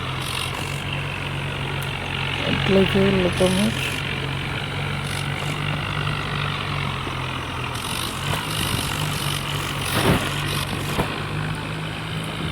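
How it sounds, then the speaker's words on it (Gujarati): A New Holland 3630 tractor engine idles with a steady low drone beside a tin-roofed farm godown, while someone talks over it and brief clanks and knocks come and go. "ટ્રેક્ટર તો બહુ જ જામ હાલે છે ને આનો અવાજ પણ કંઈ બહુ ખાસ નથી"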